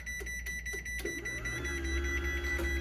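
A Chamberlain LW5000EV garage door opener gives repeated electronic warning beeps in a steady rhythm over a constant mechanical hum, then its motor starts up and runs continuously as the door closes.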